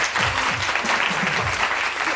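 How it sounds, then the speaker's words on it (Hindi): Steady applause from a studio audience on a Pakistani morning talk show, greeting a guest with dense, even clapping for a couple of seconds with faint voices underneath. "सामिया के लिए बहुत सारी तालियां"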